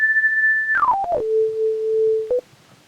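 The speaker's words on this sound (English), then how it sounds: "Right now the effect is just a chorus effect," Sytrus synthesizer operator tone with a chorus effect: a steady high sine-like note that slides down in steps to a lower sustained tone, clean and alone, ending with a short blip.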